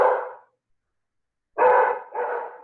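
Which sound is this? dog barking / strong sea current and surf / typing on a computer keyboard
dog barking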